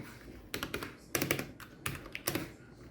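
Typing on a Havit KB498L 60% keyboard fitted with custom keycaps, close clicky keystrokes in quick irregular bursts separated by short pauses, no talking.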